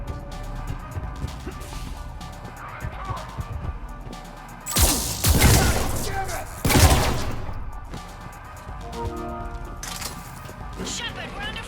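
Gunfire in the video game Mass Effect 3 Legendary Edition, with bursts of rapid shots and heavy crashing impacts over a continuous battle din. Voices talk intermittently throughout.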